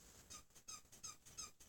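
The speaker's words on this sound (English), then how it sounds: "That's very annoying, that squeaky noise." Repeated high, thin squeaks, likened to a seagull, in a rhythmic series of short chirps about every few tenths of a second, faint and close, with no talking.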